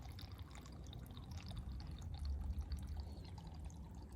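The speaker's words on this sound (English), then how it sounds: "Water crossing the trail." Water running across a hiking trail on the Pacific Crest Trail near Bird Spring Pass, a faint, continuous trickling and pouring burble with no voices.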